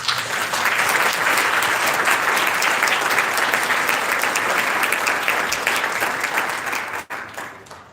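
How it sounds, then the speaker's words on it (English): A large audience at a peace-themed media alliance event breaks into sustained applause, dense and even, loud throughout before tapering off near the end. "I think it deserves another round of applause."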